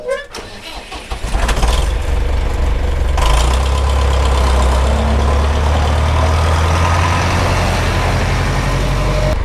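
A John Deere 3020 tractor engine cranks and catches, then settles into a loud, steady, rumbling idle that continues close by without pause.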